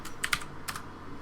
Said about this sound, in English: my typing skills today have not been good